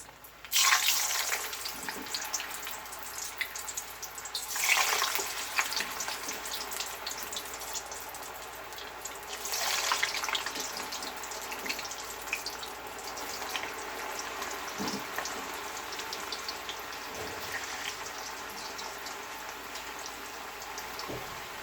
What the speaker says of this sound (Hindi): अब मैं इसके अंदर फ्राइज वो डाल दूंगी।